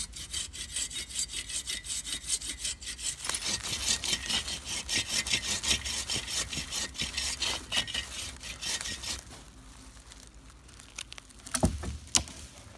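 A Sven folding saw cuts through dead hardwood for firewood at a creekside bushcraft camp. Steady, close rasping strokes run for about nine seconds, then stop, leaving quieter rustling and a few knocks.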